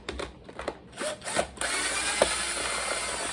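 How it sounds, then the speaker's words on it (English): A power drill backs side screws out of a Bissell Revolution vacuum, opening with short stuttering bursts and clicks, then settling into a steady, close whir. "All right, let's use this drill."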